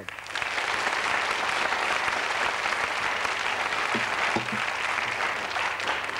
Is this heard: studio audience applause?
yes